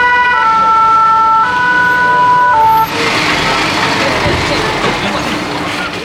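Ambulance siren from a fire brigade VSAV rescue vehicle at an intervention, a loud steady two-tone wail that shifts pitch partway through, with road traffic and brief voices underneath.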